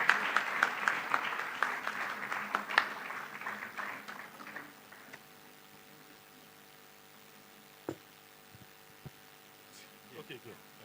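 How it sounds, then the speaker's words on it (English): Conference audience claps for the first few seconds, the applause thinning and fading out by about five seconds, followed by a quiet room with low hum and a few isolated thumps and knocks. "let's clap for them"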